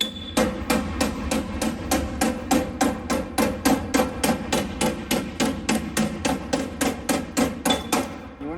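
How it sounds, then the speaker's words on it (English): A hammer strikes metal over a dolly in a fast, even rhythm, each blow ringing sharply, working a 1972 Road Runner GTX door panel. The steady pounding continues throughout without pause. "So now it's just a matter of a hammer and dolly."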